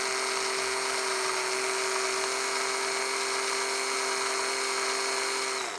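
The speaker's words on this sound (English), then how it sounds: "I'm just going to use my drill here to carefully drill a small hole in the centre of this disc" A small electric drill bores a hole in the centre of a plastic disc for an Action Man restoration, giving one steady, high-pitched whine that runs close and unbroken for about six seconds before it cuts off.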